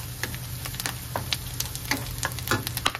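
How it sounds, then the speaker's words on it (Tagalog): Garlic sautés in a pan for string beans adobo, cooked without oil, giving a steady close sizzle broken by scattered pops and light crackles, with no talking. "Igisa na natin yung bawang"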